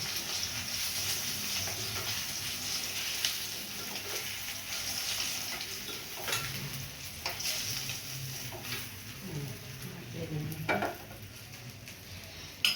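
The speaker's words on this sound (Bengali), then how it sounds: "তেল গরম হয়ে গেছে, মাছটা আমি ভেজে নেব" Pieces of katla fish fry in hot oil, a steady close sizzle running throughout with occasional stirring scrapes and clicks of a utensil on the pan, no voices.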